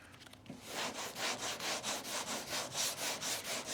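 Car primer being hand sanded with worn 500 grit sandpaper, steady rhythmic back-and-forth rasping strokes, about a dozen even passes, close and clear with no talk.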